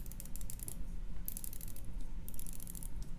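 Rapid ratcheting clicks of a typical Seiko dive-watch bezel being turned, three quick bursts of fine close clicking separated by short pauses, faint and alone.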